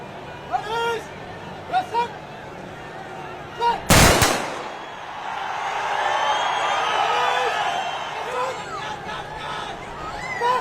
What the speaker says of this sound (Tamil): அப்போது 72 துப்பாக்கி குண்டுகள் முழங்க கேப்டனுக்கு அரசு மரியாதை செய்யப்பட்டது